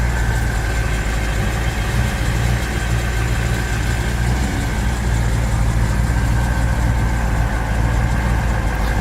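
A 1959 Ford White Retractable's engine idles smoothly and quietly up close, a steady low rumble holding unchanged throughout with no talk.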